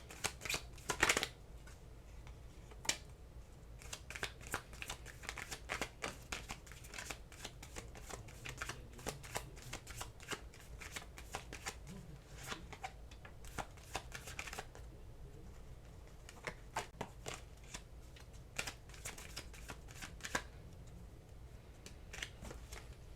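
Tarot cards being shuffled by hand, a steady run of soft riffling flicks and slaps up close over about twenty seconds, with no talking.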